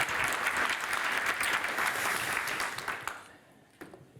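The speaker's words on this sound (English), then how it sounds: "So can we have a round of applause for Roelof?" A conference audience at PyCon SE 2015, a Python developer gathering, claps steadily for a speaker introduction, a full, even burst of applause lasting around three seconds before tapering off to near silence.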